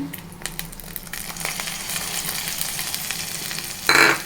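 Peanuts sizzle and rattle in a hot pan with scraping stirs and crackles, ending in a brief louder clatter.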